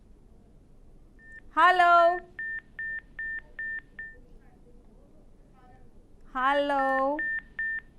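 Telephone dialing tones on a live phone-in show: two bursts of evenly spaced keypad beeps, each following a person calling out greetings into the line, with faint background hiss.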